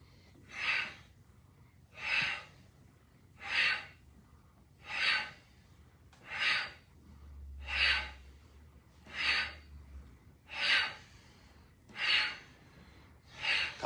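Rapid yoga fire breath: about ten sharp, forceful nasal exhales spaced roughly every second and a half, close and clear, with a faint low rumble underneath.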